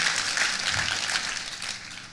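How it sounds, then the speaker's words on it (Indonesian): Congregation applause for Jesus during a church service, a dense, steady wash of clapping from many hands, lively and sustained throughout. "Tepuk tangan boleh yang paling meriah buat Yesus Tuhan kita"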